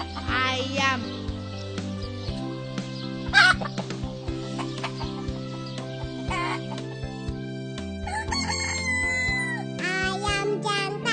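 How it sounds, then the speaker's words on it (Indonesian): Mother hen clucking close by in a repeated, uneven series of short calls, with other birds chattering and a steady musical background underneath. "Induk ayam."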